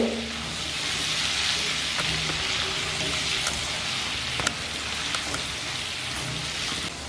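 Potato pieces frying in a pan over low-to-medium flame, a dense, even, rain-like sizzle that holds steady close up, with a few faint clinks and no talking.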